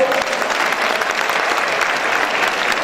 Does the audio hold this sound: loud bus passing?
no